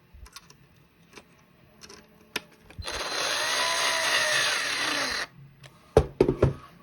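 A power driver runs a screw into a NuclearHazard Core kit (version 7) in one steady whirring burst of about two and a half seconds, close by, framed by small handling clicks and taps.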